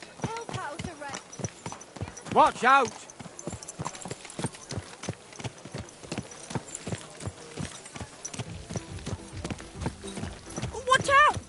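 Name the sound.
horse hooves galloping in Kingdom Come Deliverance 2 video game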